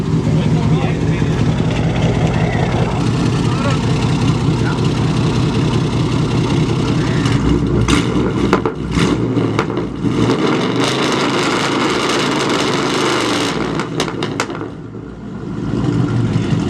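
A Camaro SS engine holds loud, steady revs on a two-step launch limiter, with sharp crackling bursts breaking through near the end while people talk.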